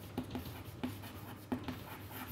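Chalk or marker strokes on a lecture board, several short taps and scrapes in quick bursts separated by pauses, faint and close against a quiet room hum with no talking.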